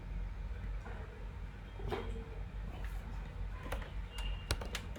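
Faint, sparse keystrokes on a computer keyboard while a program is being written, with soft isolated clicks over a low background hum.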